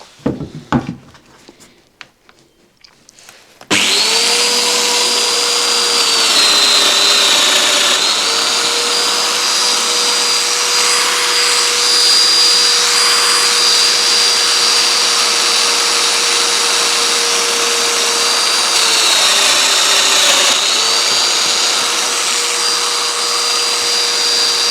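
A domino joiner cuts mortises into a breadboard-end table top, giving a loud, steady motor whine with a dust-extraction roar that runs close and continuous after a brief start of handling clatter.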